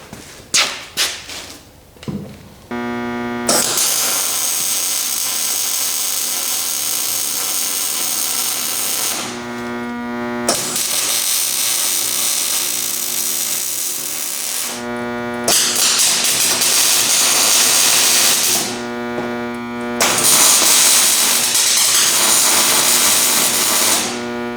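Tack welding steel angle for a 42U server rack: four long, loud bursts of crackling, buzzing arc noise separated by brief pauses, with a few sharp clicks at the start.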